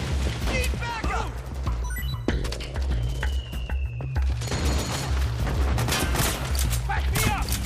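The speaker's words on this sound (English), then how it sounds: "Get in there! Attack! Fire! Suppressing fire!" Gunfire and explosions in the video game Metal Gear Solid 4 form a dense, loud battle din of rapid shots and booms throughout, with shouting voices mixed in.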